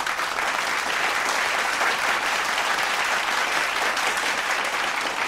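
Dense, steady clapping close to the microphone from the hosts of an urban culture podcast. It runs without a break for several seconds, with no talking over it.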